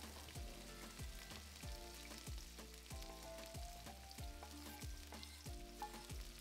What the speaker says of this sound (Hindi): 1 large finely diced tomato, इसे भी हम मसाले के साथ अच्छे से भुनेंगे.